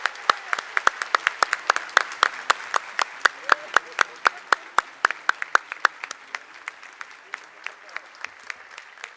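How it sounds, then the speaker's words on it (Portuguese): Applause for a team at a corporate governance and independent audit conference, heard as sparse, distinct individual claps in a steady rhythm that thin out over the final few seconds. "uma salva de palmas para essa turma aqui"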